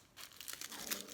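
Clear cellophane wrap around Grinch-themed playdough is cut and crinkled up close, a short run of soft rustles and crackles that ends in a sharper snip.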